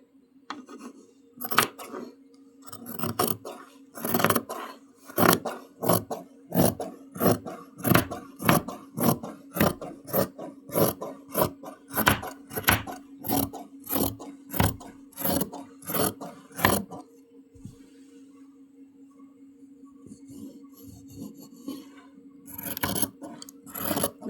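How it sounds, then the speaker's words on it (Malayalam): Scissors cut skirt lining fabric along a rounded curve: a rapid, steady run of close, crisp snips that stops after about seventeen seconds, followed by quieter rustling of the cloth. "ഇതിങ്ങനെ റൗണ്ട് ചെയ്ത് കട്ട് ചെയ്യും"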